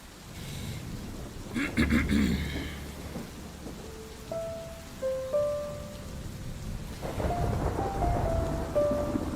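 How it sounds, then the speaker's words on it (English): A thunderstorm with steady rain: a heavy rumble of thunder rolls through early on over a constant hiss of rainfall, with some tonal game-like chimes later. "With the sound of the storm echoing above"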